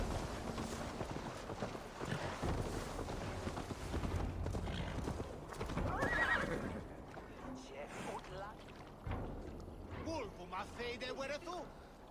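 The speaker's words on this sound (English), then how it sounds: "Oh, my horse is in the middle of the cutscene." Horse hooves clip-clopping with a neigh in Assassin's Creed Valhalla, the steady hoofbeats running under game music and dialogue, fairly quiet in the mix.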